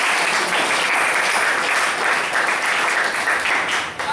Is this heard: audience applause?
yes